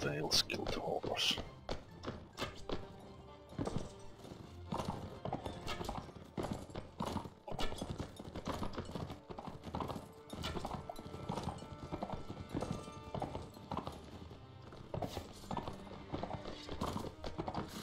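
Horse hooves galloping across the steppe in the Mount & Blade Warband video game, a busy run of rapid clip-clop beats with thuds and an occasional whinny, mixed with voices throughout.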